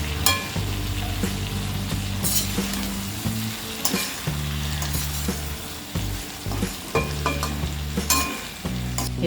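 Ivy gourd sabzi stirred with dry mango powder and red chilli powder in a hot pan, a steady sizzle of frying under the repeated scrape and clink of a spoon against the pan, close and continuous.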